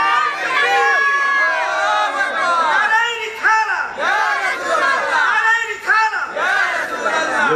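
A large crowd at an Islamic mahfil gathering in Homna, Jaipur roars a collective takbir response, many voices shouting together in loud, sustained waves that rise and fall continuously throughout.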